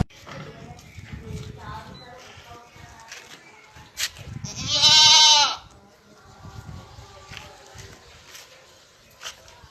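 Native village-raised goat kids bleating, with one loud, wavering bleat up close and other animal calls around it, mixed with people talking nearby outdoors.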